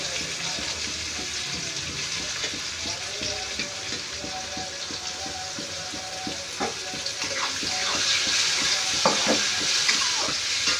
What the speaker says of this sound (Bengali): পেঁয়াজটা ভাজতে দিয়ে দিয়েছি